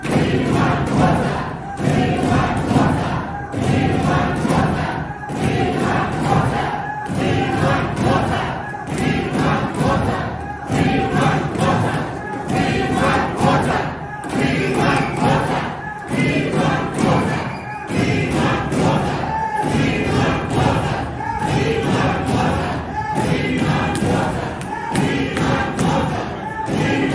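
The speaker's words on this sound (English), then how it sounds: "met with an angry crowd chanting, "We want water."" A large, angry protest crowd in South Africa chants a demand for water in a loud, steady rhythm, each shouted phrase joined by thumps, repeating over and over as one massed voice.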